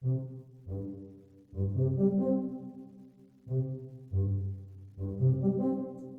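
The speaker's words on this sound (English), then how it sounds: "With this tuba here, don't forget, the tuba has no point. So this has just body." A tuba plays low, soft-edged notes in an orchestral arrangement, several sustained tones entering one after another with gentle attacks and a full, rounded body.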